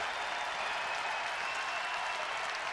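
The crowd at a Princeton vs. Rutgers Big Ten college wrestling match applauds as spectators rise, a sustained, even roar of clapping heard at moderate distance, unbroken for the whole stretch.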